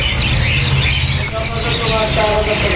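Lovebirds at a bird market in Khulna give a steady stream of busy, overlapping chirps and tweets against loud market bustle and background noise.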